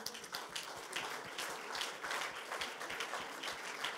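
Steady applause from an audience at an engineering invention award ceremony as jury members are called onto the stage, moderately quiet and continuous with individual claps audible in the mix.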